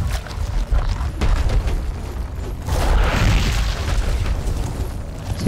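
Grenade blast in the video game Gears of War Ultimate, a deep booming explosion with rumbling low-end and a long, loud noisy tail that swells again partway through, with no talk.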